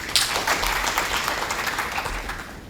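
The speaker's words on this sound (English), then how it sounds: "A very big clap for her." Audience at a 2015 conference applauding after a presentation, a short burst of dense clapping from many hands that gradually thins out.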